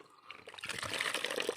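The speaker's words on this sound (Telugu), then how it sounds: "బకెట్లో పోసుకోవాలండి వాటర్తో" Water pours into a bucket to mix Oberon pesticide for spraying a paddy field. A soft splashing rush builds after a quiet start and continues steadily, close by and fairly faint.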